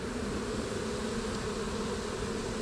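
A dense swarm of honeybees hums continuously at close range as frames are set into a hive, a steady even buzz with no speech.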